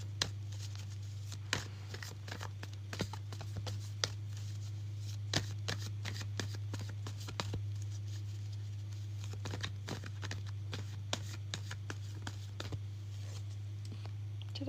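Playing cards being shuffled during a full moon candle ceremony reading, giving repeated soft riffling clicks and patters at a steady irregular pace, fairly quiet over a constant low hum.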